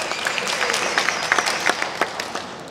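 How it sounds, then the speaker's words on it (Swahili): A crowd claps at a political rally, with scattered hand claps building into a short, moderately loud burst of applause and no talk over it. "Piga makofi kwa ajili ya hayo."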